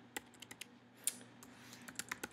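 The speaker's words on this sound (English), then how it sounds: "And I type" Quiet, irregular keystrokes tapped on a computer keyboard, a dozen or so soft clicks spaced unevenly over a faint steady hum, with no speech.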